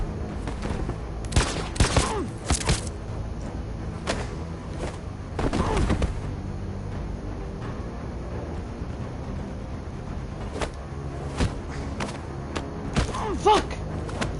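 Gunshots in Detroit: Become Human ring out in sharp, loud cracks, a tight cluster early on, another pair midway, then scattered shots toward the end over a low ambient bed.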